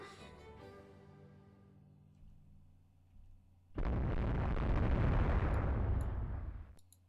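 Naval guns fire from warships in the strategy game Rule the Waves 2. Quiet ringing tones come first, then a heavy, loud burst of cannon fire roars for about three seconds before cutting off abruptly.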